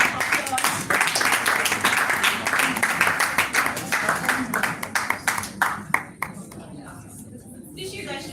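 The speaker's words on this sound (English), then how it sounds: "You guys should please give a round of applause." Audience applause at a plant-based stem cell health summit in Nigeria: sustained, dense clapping from a crowd that carries on for several seconds, then thins out into scattered claps and fades away near the end.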